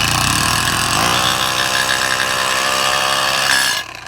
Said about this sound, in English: you take your hammer drill and you switch this to just hammer